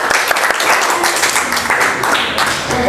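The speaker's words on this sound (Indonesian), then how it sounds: "Oke, tepuk tangan dulu untuk kelompok 2." A classroom gives group 2 a round of clapping that holds steady for about three seconds, loud and near, with a few louder individual claps standing out.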